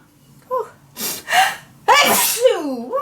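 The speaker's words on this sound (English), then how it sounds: "I think I have to sneeze." A person makes a few sharp intakes of breath and then lets out one loud, close sneeze, followed by a brief gasping exhale.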